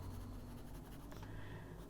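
Soft, steady scratching of a colored pencil dragged across paper under heavy pressure, close up and quiet, with continuous strokes and no talking.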